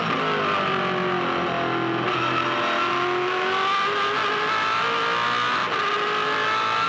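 A 2008 V8 Supercar at the Bathurst 1000 roars loud and steady from onboard on the run up to turn 1, its engine revving hard and continuous with no pauses.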